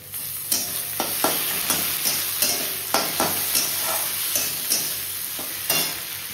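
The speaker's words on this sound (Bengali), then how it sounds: "পেঁয়াজটা ভালো মতো ভাজা হয়ে গেছে, এবার দিয়ে দেব টমেটোটা" Onions fry in a pan as tomatoes go in, giving a steady hiss of sizzling oil punctuated by regular scraping clicks of stirring, close and moderately quiet.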